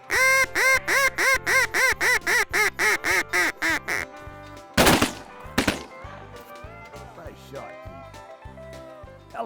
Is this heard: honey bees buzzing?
no